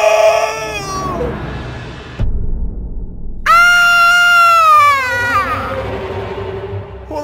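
Loud, shrill screaming in sweeping high-pitched wails, a few long cries broken by a brief silence, with the final cry fading into background noise.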